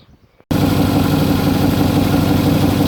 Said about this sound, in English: now I've got that running on all 8 cylinders and the carburetor isn't working well, look how steady it is